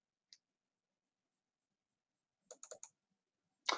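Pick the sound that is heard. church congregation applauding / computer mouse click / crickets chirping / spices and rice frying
computer mouse click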